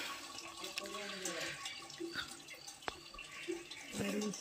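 Water runs steadily from an ever-flowing spring at the Ramling temple, the spot said to have been struck by Lord Rama's arrow, with a continuous close splashing flow and faint voices in the background.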